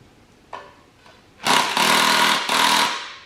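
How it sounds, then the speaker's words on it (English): An impact wrench buzzing on the oil pan bolts of a 1988 Ford Mustang engine, two short taps followed by a loud, close, sustained burst that briefly drops and resumes. "So I'm going to start taking off the oil pan bolts."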